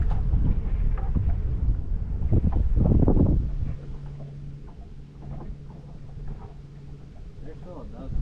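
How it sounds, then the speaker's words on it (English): Gusty wind buffeting the microphone on a fishing boat out on a lake, loud rumbling bursts for the first few seconds that then ease into softer blowing, with a low steady hum underneath. "The wind is just killing it."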